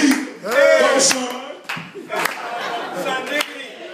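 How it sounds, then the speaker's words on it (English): Several people clap along in rhythm with sharp, repeated claps mixed under loud overlapping voices and singing, in a lively hype setting. "No, keep clapping."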